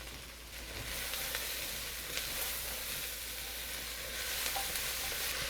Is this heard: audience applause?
no